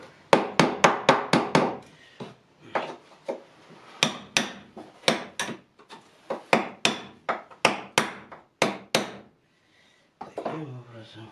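Nails are driven into wooden wall paneling with a hammer in a house interior, sharp close blows coming in quick bursts of several strikes separated by short pauses, with someone speaking briefly near the end.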